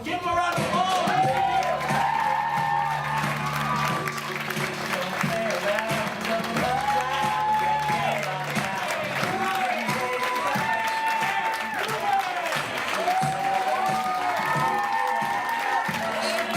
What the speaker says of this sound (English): A wonderful rider, so give him a round of applause